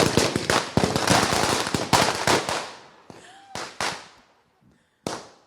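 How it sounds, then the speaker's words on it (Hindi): Firecrackers burst during a Diwali celebration in India, a dense rapid string of loud sharp cracks that thins out into a few scattered isolated bangs with short silent gaps between them. "यहाँ पर जबरदस्त पटाखे फोड़ने की तैयारी हो"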